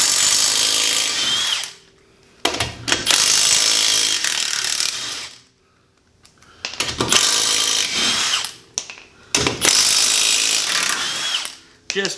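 Milwaukee M18 Fuel mid torque impact wrench on an XC 5.0 battery zips wheel bolts loose in several loud, close bursts of rapid hammering, separated by short pauses.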